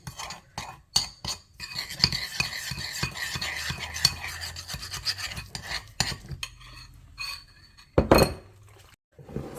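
Ingredients with black pepper stirred and mixed for a steak marinade in a bowl, a spoon scraping and clinking against the sides in quick uneven strokes, close and fairly quiet, then a few sharper knocks.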